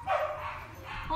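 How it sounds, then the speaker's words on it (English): A dog barks and yips indoors, close and fairly loud, in a short burst while a person talks over it. "my dog shut up."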